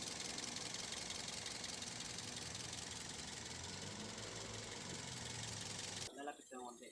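A Toyota Vios engine idling quietly with its exhaust closed, a steady even rumble with faint ticking that runs throughout and cuts off near the end, where a voice speaks.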